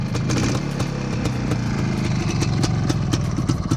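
A motorcycle engine runs loudly up close, a rough rumbling roar with steady mechanical clatter throughout.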